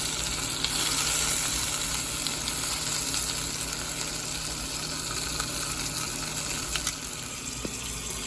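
Oxtails sear in a hot pan for Cajun-style oxtails, giving a steady, close sizzle and crackle that holds evenly throughout with no talking.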